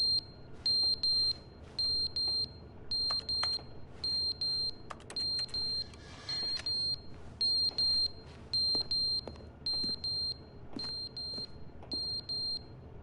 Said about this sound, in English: Or just the fire alarm batteries have gone off?